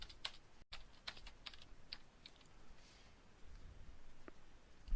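A computer keyboard is typed on in short, irregular bursts of close, crisp key clicks over a faint room hiss, with no talk.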